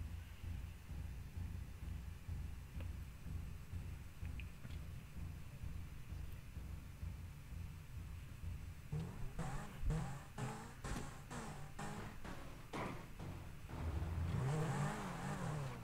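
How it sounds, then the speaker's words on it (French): Glitched car wheel and engine noise in GTA Online: a low engine drone builds into a rapid, stuttering series of sharp repeated thumps and clatters, ending in a louder revving surge, with no talking. "Vous pouvez entendre le bruit des roues du moteur, bref c'est vraiment le bordel"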